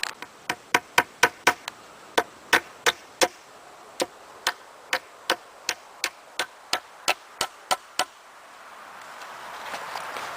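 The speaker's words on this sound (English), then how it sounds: "Let me get my hammer and nails." About two dozen sharp hammer strikes drive nails into wooden boards while a garden bed is built outdoors, coming in quick bursts and then a steady, evenly spaced rhythm, close and crisp with quiet pauses between.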